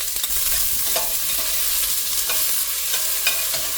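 Onions frying in oil in a pan for a Goan mackerel curry, a steady close sizzle with a few soft scrapes of stirring, no voices.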